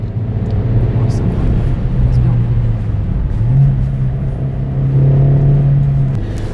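A Suzuki Swift Sport drives with its stability control on, the engine holding a steady, loud drone that climbs in pitch midway as it pulls, with a voice talking over the cabin noise.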